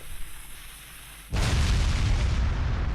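A sudden loud explosion booms in Ys IX: Monstrum Nox after a quiet moment, its broad rumbling blast sustained to the end.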